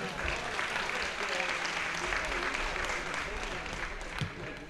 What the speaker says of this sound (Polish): Kamil Plachowski, wielkie brawa jeszcze raz dla niego.